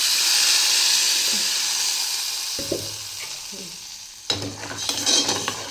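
A tempering for buttermilk sambar frying in a pan, a loud continuous sizzle and hiss that fades, followed by a few clanks and then a sharp burst of spattering as something is tipped in.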